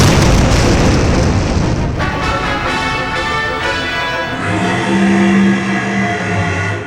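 Deep booming explosions burst loudly through a Power Rangers audio drama battle, a dense roaring wall of blasts and debris that surges, briefly eases, then swells again alongside a low droning tone.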